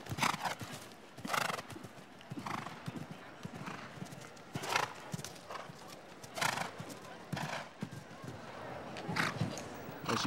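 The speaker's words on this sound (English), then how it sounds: "to have his horse jump well, confidently" A show jumper's horse gallops round a course at a 2006 Nations' Cup event, hoofbeats thudding in quick bursts with sharp jumps and landings, while a commentator talks over the action.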